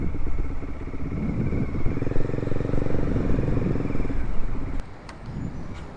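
A Bajaj Dominar 400 motorcycle with a Yoshimura exhaust pipe idles and revs nearby, a steady throbbing rumble with a modest rise and then a drop near the end, no talk.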